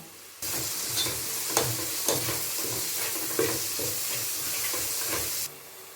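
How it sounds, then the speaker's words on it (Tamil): Crushed garlic and softened onions sizzle in a pan for crab gravy while a spoon stirs and scrapes them, producing a close, steady frying hiss broken by a few sharper scraping knocks. "இதில் நாம் நச்சு வச்ச பூண்டை சேர்த்து நல்லா கிளறி வதக்கிக்கலாம்"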